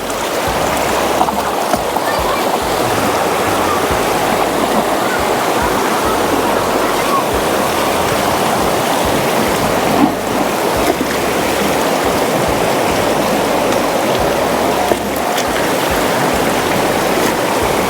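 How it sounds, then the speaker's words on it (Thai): A small stream in a rural forest setting flows steadily and loudly, a continuous broadband rush of water that runs unbroken through the whole stretch with no clear speech on top. "น้ำห้วยแบบนี้อาจจะไหลแบบสบายแล้วก็ สะอาด"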